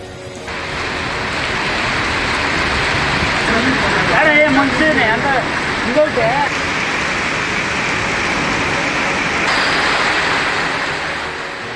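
Heavy rain pours down in Kodaikanal, a steady dense hiss of water running through the whole stretch with a few voices briefly audible in the middle.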